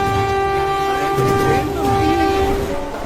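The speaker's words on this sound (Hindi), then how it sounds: "ये ट्रेन तो रुकी ही नहीं" A cartoon train passes without stopping, its horn sounding a sustained loud tone over rumbling, clattering wheels and carriages moving at speed.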